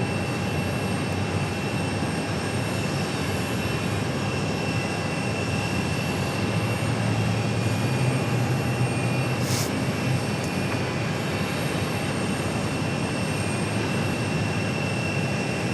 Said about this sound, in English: SkyWest CRJ action